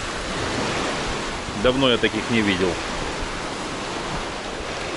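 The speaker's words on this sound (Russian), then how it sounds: "Такие буруны, барашки идут белые." Stormy sea with rolling white-capped breakers makes a steady, broad roar of surf and wind throughout, with someone briefly speaking over it partway through.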